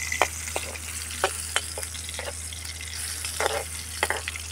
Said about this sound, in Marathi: तर हे बोंबील थोडे तळून घ्यायचे आहेत.